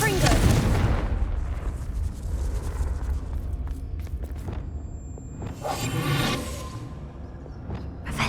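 Confringo blasting spell in Hogwarts Legacy bursts with a deep booming whoosh at the start, followed by rumbling debris and a second swelling blast later, amid continuous low game ambience.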